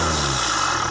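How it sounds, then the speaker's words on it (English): A 2-litre diesel car engine fitted with an induction kit runs loud and close, with a steady broadband intake whoosh and a low engine drone that holds for about a second. "Have you ever wondered what a 2-litre diesel sounds like with an induction kit on it?"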